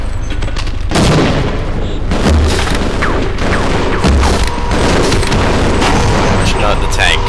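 Tank cannon blasts and explosions in the Half-Life video game, with heavy booms and gunfire bursts rolling over a dense, loud battle din, while a voice talks over it.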